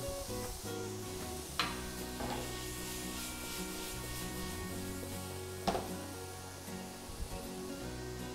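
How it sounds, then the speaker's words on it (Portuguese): Peppers sautéing in a pan with a pinch of salt for bacalhau à portuguesa, a soft steady sizzle with a few sharp clinks of a utensil against the pan. "E vai refogando"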